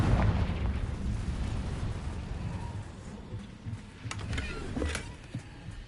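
Spell blasts explode in the Hogwarts Legacy video game: a deep rumbling boom at the start, then fainter cracks and bursts that trail off over a low continuous roar.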